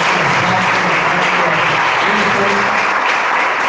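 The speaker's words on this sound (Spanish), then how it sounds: "Le podemos dar nosotros un aplauso como de honra al Señor." A church congregation applauds loudly to honor the Lord, a thick, continuous wash of clapping that stays even and close throughout.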